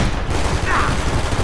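Gunfire from the Max Payne 3 video game, a dense burst of shots running through the whole short stretch, loud and steady, with a voice briefly underneath.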